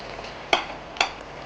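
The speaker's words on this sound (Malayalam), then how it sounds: "വീണ്ടും അടുപ്പിലേക്ക് വെച്ച് കഴിഞ്ഞപ്പോൾ ഇതിങ്ങനെ അരപ്പ് വീണ്ടും തിളച്ചു തുടങ്ങി" Kuttanadan duck roast masala bubbles quietly in a pan while being stirred, a soft simmering hiss broken by two sharp metallic clinks of a spoon against the pan about half a second apart.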